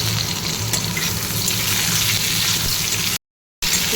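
Pointed gourd slices frying in oil in a pan, with ridge gourd to follow, giving a steady, dense crackling sizzle close by that runs without a break apart from a brief silent gap near the end.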